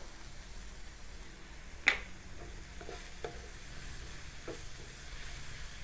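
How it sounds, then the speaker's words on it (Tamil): Soft sizzling of vegetables frying in a pan with garam masala and turmeric, with a few scraping, clinking stirs of a spoon, steady and fairly quiet, no voices. "இந்த கரம் மசாலான்ற பச்சை வாசனை போகும் வரைக்கும் கொஞ்சம் நல்லா கிண்டி விடுங்க"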